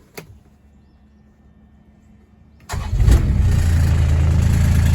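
A Bobcat UV34XL diesel UTV fires up after a brief click and quiet pause, then settles into a loud, steady, close-up diesel idle that runs to the end.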